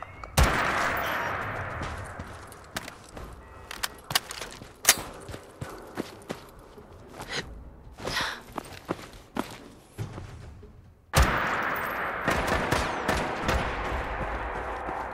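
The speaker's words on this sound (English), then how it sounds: "Who's shooting at me?" Gunfire crackles during a night raid on the Corvega plant in Fallout 4, with a burst of rapid shots, then scattered sharp bangs and thumping steps, before another dense volley of shooting.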